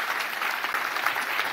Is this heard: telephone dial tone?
no